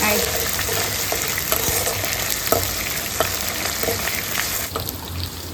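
Garlic and curry leaves sauté in hot oil in a pan for a green sundakkai kuzhambu, giving a steady, close sizzle with light stirring scrapes throughout and no talking.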